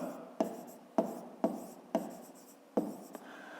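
A pen writing on paper, a series of six sharp taps, each followed by a short scratchy stroke, evenly spaced and close.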